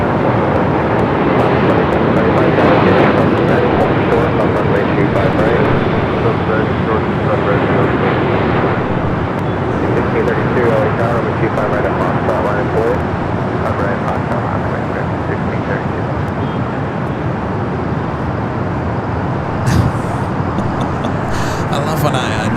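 An airliner, China Eastern Airlines flight 583 from Shanghai, arrives at LAX with a loud, sustained jet roar that swells early and then holds steady for over twenty seconds, with people talking over it.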